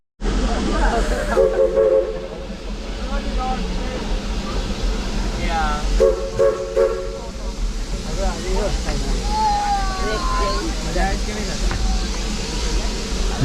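A narrow gauge steam train among the Santa Cruz redwoods hisses loudly and continuously while lining up to back onto the next track, with faint whistle-like tones and voices in the background.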